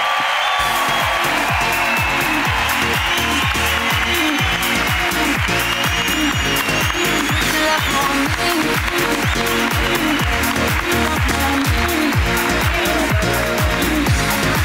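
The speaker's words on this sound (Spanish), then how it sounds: "Ahí está, aplauso para ella" A live audience at a Spanish comedy podcast recording claps loudly and continuously, a dense wash of rapid handclaps with scattered cheers running unbroken from start to finish.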